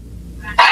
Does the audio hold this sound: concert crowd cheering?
no